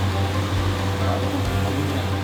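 A rescued white Jindo-type dog named Maru is blow-dried during grooming, a steady, loud whooshing hum of the hair dryer with a low drone underneath, running continuously without pauses.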